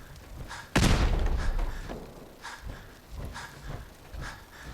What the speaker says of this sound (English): Oh, grenade.